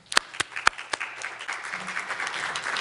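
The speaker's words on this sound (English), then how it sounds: "Please, a round of applause for Judge McKee." Audience applause at a court competition, beginning as a few sharp separate claps and swelling into a steady, moderately loud patter of clapping from a room of people.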